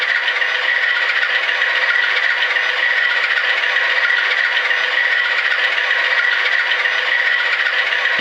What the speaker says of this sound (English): F4 is dynamic brake.